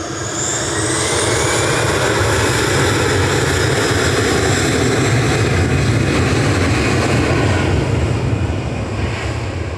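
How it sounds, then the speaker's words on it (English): An EasyJet airliner departs Manchester Airport with a loud, continuous jet roar close by, a broad rushing drone with a faint high whine layered over it. "Here goes the EasyJet to Corfu in front of it."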